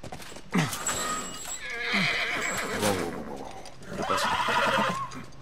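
A horse whinnies loudly in The Last of Us video game, with several neighs and snorts over clip-clopping hooves, heard close and clear for about five seconds.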